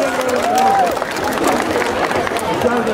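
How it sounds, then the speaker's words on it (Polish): An audience at an outdoor Midsummer Night festival applauds the sponsors, with steady clapping and crowd noise mixed with chatter and some voices over it. "Poproszę Państwa o gromkie brawa ze sponsorów."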